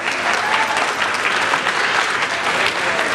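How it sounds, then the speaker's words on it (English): Steady, dense audience applause from a large crowd at a survivor's story event, many hands clapping continuously and evenly loud throughout with no gaps, close and full. "give them a round of applause"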